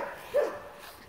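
A dog gives one short, mid-pitched bark or yip close by, standing alone against a quiet background.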